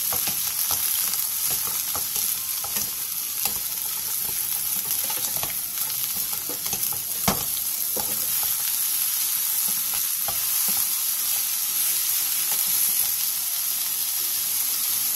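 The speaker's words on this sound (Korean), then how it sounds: "골고루 어우러지게 볶아주세요." Sweet potato stems and minced garlic stir-fry over high heat in an oiled pan, giving a loud, steady, dense sizzle with occasional soft stirring scrapes throughout.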